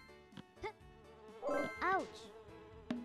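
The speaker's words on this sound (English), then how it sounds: "Fucking hate these bees." Buzzing bees in the video game Bud Redhead: The Time Chase, short tonal buzzes and swooping chirps over a quiet game soundtrack, with a couple of louder warbling bursts in the middle.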